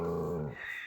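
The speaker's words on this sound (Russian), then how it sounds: "Чё рычишь?" A dog growls low and steady for about half a second, then the sound drops away into quieter breathy noise; close and fairly clear, with no talk over it.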